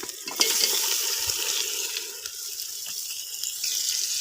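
Raw chicken hits a hot pan for chicken karahi with a loud burst of hissing sizzle and some wet stirring. The sizzle then settles into a steady, close frying noise with no talking.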